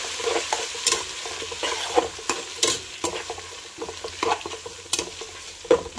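Ginger garlic paste and dry spices are stir-fried for chicken biryani, a continuous sizzle broken by repeated scraping and clattering strokes of a spatula against the pan, close and uneven.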